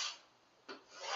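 A pen scratches across paper while a number grid is written out, two soft raspy strokes heard close and quiet with a brief lull between them.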